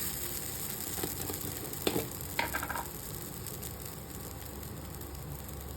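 Podi dosa batter poured onto a hot pan, dusted with homemade podi, sizzles in a steady, moderately loud hiss with a few brief crackles and spatters.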